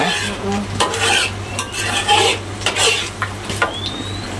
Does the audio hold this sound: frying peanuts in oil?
yes